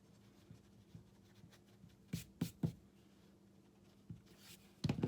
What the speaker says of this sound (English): we're going to erase the flute lines within the mouth